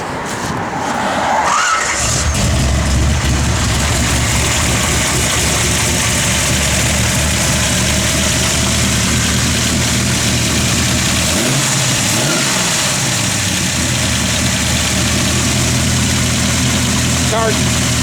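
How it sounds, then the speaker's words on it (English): A 1968 Chevrolet Nova SS engine cranks and fires up, then settles into a loud, close, rumbling idle with a brief rev partway through, while a voice talks over it. "Go ahead, you can fire it up, Nathan."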